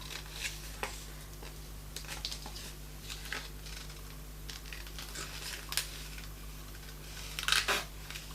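Scissors snip out a printed paper bottle picture for collage, giving soft, scattered crisp snips and paper rustles at close range over a steady low hum, with a brief louder crinkle near the end.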